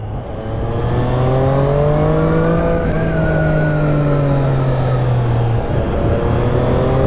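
A 123 hp Triumph Street Triple RS hypernaked motorcycle engine drones steadily while riding, a loud, close, sustained tone rising and falling slightly in pitch with throttle, with no voices.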